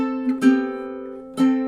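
Ukulele fingerstyle melody played in time, a few soft plucked notes ringing out, with two brighter attacks spaced about a second apart, quiet and alone.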